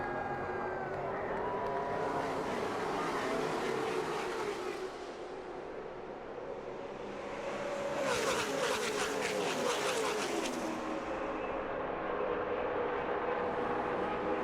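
NASCAR Cup stock cars at Daytona take a restart during the 2007 Budweiser Shootout, their engines producing a continuous loud roar that swells as the pack passes close by and then drones on.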